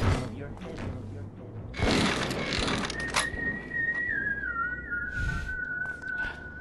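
Whistling in the video game Zeno Clash, a sustained wavering tone that slides slightly in pitch, heard over game ambience and noisy bursts.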